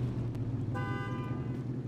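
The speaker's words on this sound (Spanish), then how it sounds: "Tiene una bocina única, no la había escuchado antes." A Ford Bronco utility vehicle in SnowRunner sounds its distinctive horn, a single steady tonal honk of about a second over a constant low engine drone.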